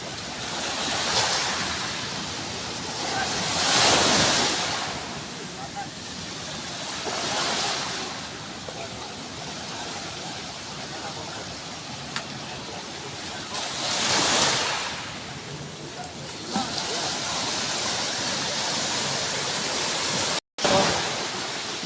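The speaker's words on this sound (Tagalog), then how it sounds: "Yung dagat parang aabot na siya dito sa bakod. Malakas talaga." Strong sea waves roll and crash on the shore in storm weather with gusty wind, a steady roar that swells every few seconds as each wave breaks, with no voices.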